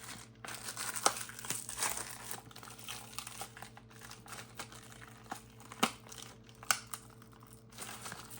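A Fruit Loops cereal bag crinkles quietly as it is pulled from its box, giving soft rustling with a few sharper crackles and ticks scattered throughout.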